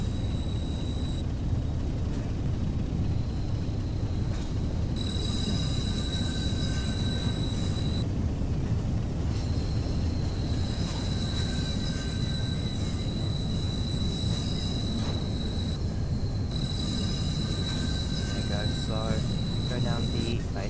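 A heavy train rolls continuously in Train Sim World on the West Somerset Railway, with a deep steady rumble and high, ringing squeals of the wheels that come and go.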